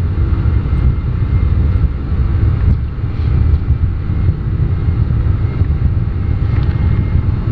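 Airbus jet engines spooling at takeoff power, heard from inside the cockpit as a loud, steady roar with deep rumble throughout.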